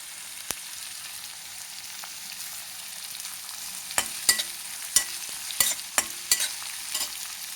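Onions and green chilies frying in a pan give a soft, quiet sizzle, then a run of sharp spoon scrapes and clicks against the pan in the second half, with no one speaking.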